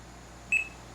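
A projector answers a remote control button press with one short, clear electronic beep, high and brief against a quiet background hum.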